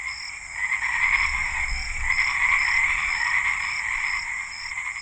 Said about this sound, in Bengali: সোনা ব্যাঙের ডাক